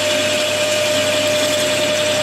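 A lightly touched-up drill bit cuts into metal with a steady, continuous high whirring grind, loud and close, with no talking.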